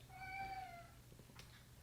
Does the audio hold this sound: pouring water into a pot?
no